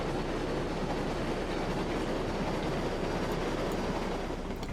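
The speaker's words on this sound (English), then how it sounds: "Because we need to get the end of this train across." A train rolls along the track in the railroad game Railroads Online, a steady, dense rumble with rhythmic clickety-clack of wheels on rail joints, continuous and close with no talking.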